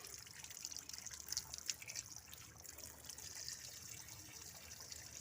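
Fish being washed by hand under running water, a steady close trickle and splash of tap water with brief louder splashes, no talking.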